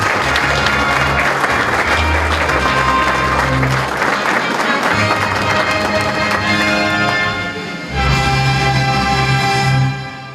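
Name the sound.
fanfare and applause for absent champion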